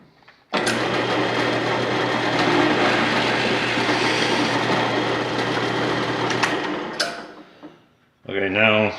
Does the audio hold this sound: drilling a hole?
yes